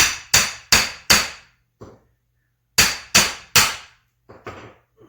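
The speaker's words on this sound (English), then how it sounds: "I think we can start slowly working the axe down here." An axe is worked into a log while a small wooden box is being shaped: sharp, loud, close wooden strikes come in quick bursts of three or four, separated by short silent pauses and a few lighter taps.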